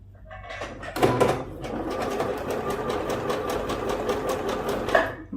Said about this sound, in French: je commence par faire quelques petits points pour bien fixer l'élastique